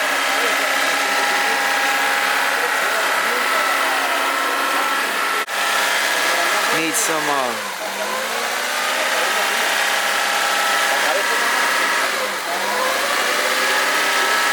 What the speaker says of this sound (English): But the car sounds super healthy.